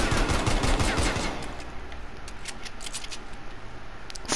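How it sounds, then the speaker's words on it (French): Rapid gunfire from a pistol in Black Ops Cold War, loud and dense for the first second and a half, then fading to scattered sharper shots over a steady background hum. "Le pistolet."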